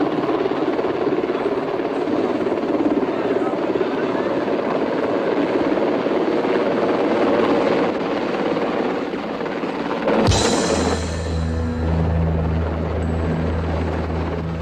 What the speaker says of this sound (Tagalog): Naka-helicopter pa!